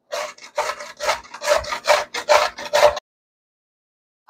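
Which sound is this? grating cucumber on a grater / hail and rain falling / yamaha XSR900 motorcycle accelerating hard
grating cucumber on a grater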